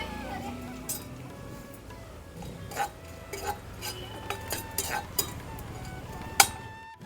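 Whole mace, black cardamom, cloves, green cardamom and black pepper are dry-roasted in a pan, making scattered light clinks and scrapes of spices and utensil against metal, with voices talking over them.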